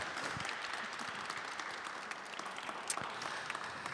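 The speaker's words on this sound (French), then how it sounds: "on vous applaudit, Père Pierre-Marie Robert" An evening parish talent show audience in Cognac applauds steadily, a crowd's dense clapping that sounds somewhat distant and runs evenly for a few seconds with no speech over it.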